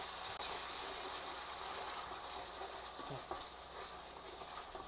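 Chicken feet frying in oyster sauce in a hot frying pan give a steady close sizzle and hiss throughout, with a few brief stirring clatters.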